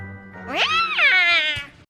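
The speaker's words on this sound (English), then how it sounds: "And then there's Snarf, the house cat." A cartoon house cat from the 2011 Thundercats series lets out one long, drawn-out whiny meow that rises and wavers, loud and close, with no speech.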